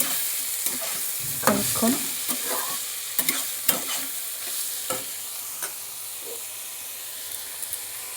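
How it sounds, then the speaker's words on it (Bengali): Ash gourd fries in a pan and is stirred with a spatula, giving a steady soft sizzle broken by irregular scraping knocks, close by and moderately quiet. A voice speaks a few words. "দেখো চাল কুমড়োটা দিয়ে দিয়ে এবার নেড়ে নেব"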